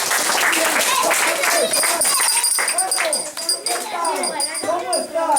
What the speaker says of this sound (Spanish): Aplauso para el técnico de sonido